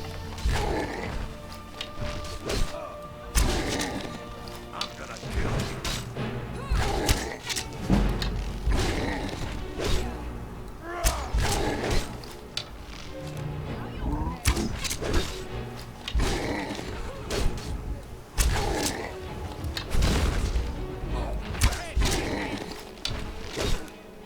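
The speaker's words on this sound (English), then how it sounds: "Let's get in a couple cheap shots on this giant." Mace blows landing on a giant in Skyrim, a series of heavy thuds and impacts spread at irregular intervals amid grunts, creaks and game noise, fairly loud throughout.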